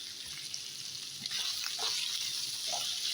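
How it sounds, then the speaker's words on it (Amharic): Garlic and ginger frying in a pan for Chinese-style rice, a steady close crackling sizzle with a few soft stirring clatters through it, no talk. "አሁን ነጭ ሽንኩርትና ዝንጅብል አደርጋለሁ።"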